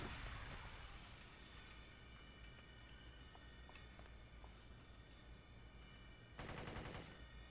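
Faint, distant machine-gun fire in Company of Heroes, a steady rattling crackle that runs almost unbroken under low battlefield ambience and swells briefly near the end.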